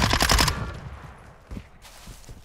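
Rapid automatic gunfire from the video game Call of Duty: Modern Warfare II, a loud close burst of shots that fades into scattered distant reports and softer game ambience.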